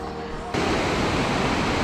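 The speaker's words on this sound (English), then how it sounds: "Check that out, waterfall in the foreground." Steady, loud broadband rush of a waterfall close by in the Arctic mountains, a continuous roar filling the whole clip after a slightly quieter first half second.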